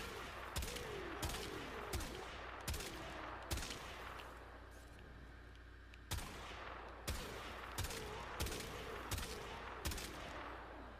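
Twelve loud, evenly paced sniper rifle shots from the Vulkar Wraith in the Warframe video game, each a sharp crack with a short tail, fired in two bursts of six with a brief pause between.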